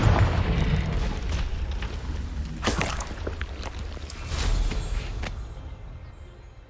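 Confringo fire spell explosion in Hogwarts Legacy, a deep rumbling boom with a few crackling bursts that rolls on and slowly fades away.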